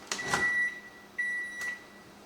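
A microwave oven finishes cooking a veg curry with a few short electronic beeps, close and clear, with light clatter between them.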